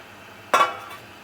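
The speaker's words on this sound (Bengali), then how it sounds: "ঝোলটা ফুটে উঠেছে এখন আমি দিয়ে দেবো ভাজা মাছগুলো" Pieces of fried fish drop into a pan of boiling fish curry, making one sharp close splash and hiss that fades quickly into a low bubbling.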